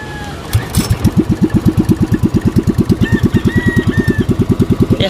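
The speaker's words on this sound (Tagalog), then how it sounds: "Testing muna ng makina." Boat motor engine being tested: it starts up and settles into a loud, close, steady idle of rapid, even thumping pulses that continue to the end.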